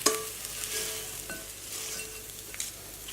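Salt and pepper tofu being scraped and dished up into a bowl, soft sizzling and stirring with light utensil scrapes and a couple of faint knocks, quiet and close, no talking.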